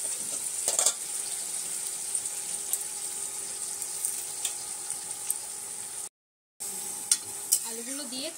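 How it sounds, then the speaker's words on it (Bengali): Potatoes frying in hot oil give a steady, fairly loud sizzle throughout, with occasional stirring scrapes and a brief gap of silence near the end. "আলুগুলো দিয়ে তেলের সাথে ভালো করে মিশিয়ে দেবো।"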